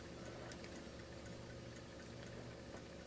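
Olelica pet water fountain running very faintly, a low steady trickle and splash of water with no voices.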